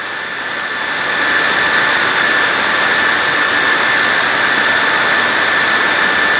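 A camera drone flies close by inside a room at the Balaan Hills overnight lodging in Negros Occidental. Its loud, steady whine and rushing hiss swell up within the first second and then hold at an even pitch, with no talking.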